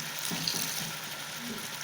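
Water poured into a hot pan of potato and fenugreek curry, giving a soft sizzle and bubbling hiss, fairly quiet and close.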